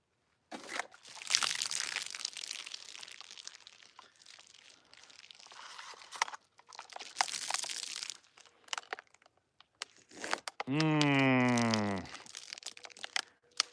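A Type XXa sword thrust into a cutting target makes two long, quiet, crunching, tearing bursts separated by silence, followed by a short, clear ringing tone from the blade.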